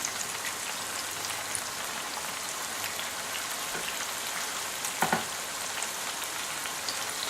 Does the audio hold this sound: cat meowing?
no